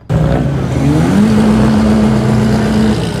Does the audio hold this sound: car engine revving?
yes